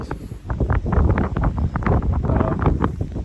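Strong wind buffets the microphone at a beach, a loud, continuous rumbling roar with gusty swells and no voices.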